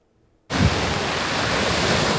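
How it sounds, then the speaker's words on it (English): Surf crashing on Broadkill Beach, where the dunes are badly eroded, bursts in after a brief silence and becomes a steady, loud, broadband roar of breaking waves with no voices. "Waves crashing on Broadkill Beach."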